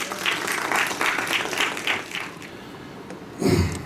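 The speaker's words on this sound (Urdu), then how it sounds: "چاہتا ہوں کہ ایک زوردار تالیاں توصیف صاحب کے لیے آ جائے." A conference audience at a felicitation ceremony claps in a dense, fairly loud patter that thins out midway, followed by a brief louder burst near the end.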